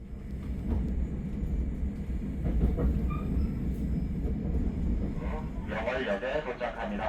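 The Jeongseon Arirang train rumbles steadily along its rails, a continuous low clatter and hum heard from inside the carriage, with a faint voice near the end.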